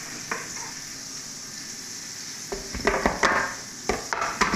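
Breadcrumb-coated potato chips fry with a steady sizzle in hot oil, broken by bursts of stirring and scraping in the pan toward the end, close up and with no talking.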